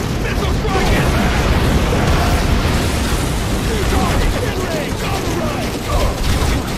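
Dense, loud gunfire and explosive bursts from the video game Modern Combat 4: Zero Hour, a continuous barrage with booming impacts throughout and game voices mixed in.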